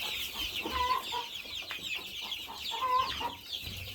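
Month-old Pentamka chicks, fluffy mixed-breed birds, cheep and cluck softly nearby, with a couple of brighter peeps standing out over a busy farmyard background.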